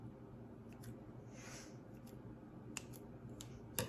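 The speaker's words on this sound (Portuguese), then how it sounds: "eu venho com a minha tesoura e vou cortando" Scissors snip through paper while shaping a cone-shaped base for Safari-themed party sweets, a few quiet, close cuts heard alone over a soft background hiss.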